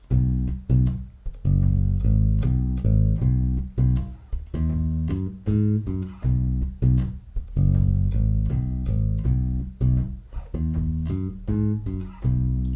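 A bass guitar runs through a longer major pentatonic bass line built from C, joining two phrases into one continuous passage of many plucked notes in a steady rhythm, up close and with no voices.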